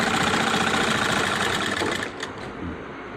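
An electric sewing machine stitches a shirt front placket in one continuous pass, its fast, steady mechanical whir running close and loud for two seconds before easing into a quieter, slower hum.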